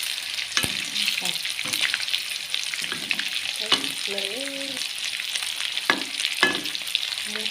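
Pork sizzles and crackles in a very hot pan with steady frying hiss, punctuated by scraping and clinking of a utensil stirring.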